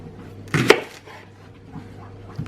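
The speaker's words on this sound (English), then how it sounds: "Next thing is to wash and chop your leeks." A single sharp knife chop through leeks onto a cutting board, close and loud, followed by faint quiet handling noise.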